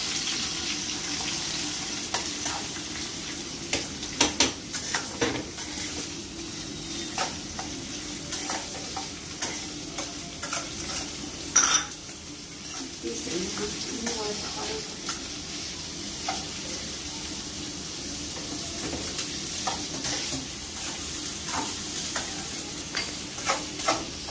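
Chopped onion with green chilies and mint fries lightly in a pan with salt, a steady soft sizzle broken by occasional stirring scrapes and clicks over about twenty-four seconds.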